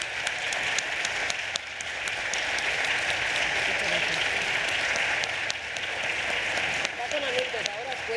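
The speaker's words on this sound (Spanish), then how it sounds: "empapar a Chani con un gran aplauso" A theatre audience applauding at a Spanish literary event, sustained dense clapping from many hands lasting several seconds, loud and even, with a voice briefly heard near the end.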